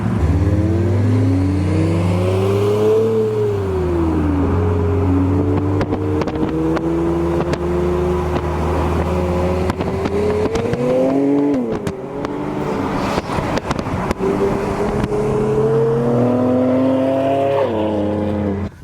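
An Infiniti Q60 engine hums and revs from inside the car while driving, rising and falling in pitch through gear changes, loud and continuous with some clunks and road noise midway.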